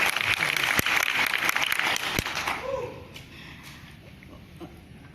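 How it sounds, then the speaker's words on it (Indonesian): Audience applause in an Indonesian business testimonial seminar, dense clapping for about two and a half seconds that thins and fades into quieter room noise. "Tepuk tangan Bapak Ibu."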